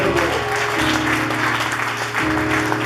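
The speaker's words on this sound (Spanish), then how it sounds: "Denle un aplauso fuerte a Dios." A church congregation applauds during a Sunday service, brisk steady clapping through the whole stretch, with a low sustained organ or keyboard tone underneath that shifts pitch near the end.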